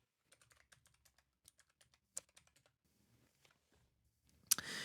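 Computer keyboard keys pressed in a run of quick, quiet, close clicks, pausing briefly and then continuing, with a louder noise burst at the end.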